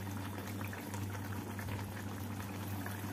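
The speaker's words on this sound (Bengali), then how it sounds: "মাছগুলোর সাথে ঝোলটাকে ভালোভাবে ফুটিয়ে নেব" Mustard-based tangra fish curry gravy boils in a pan on low gas, a steady close bubbling simmer that holds at an even level for the whole stretch with no voices.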